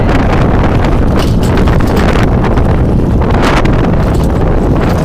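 Heavy gusts of wind batter the microphone outdoors, producing a loud, unbroken low-frequency roar and rumble throughout, with no talking.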